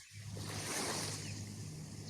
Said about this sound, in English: We still got the beautiful water sounds going in the background